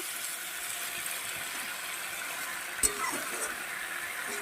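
Catla fish curry with cauliflower, potato and flat beans being sautéed in a pan, a soft, low, steady sizzle with a single sharp utensil knock partway through.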